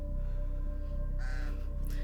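Crows caw in a short pair of harsh, loud calls over a steady mechanical hum, with no talking.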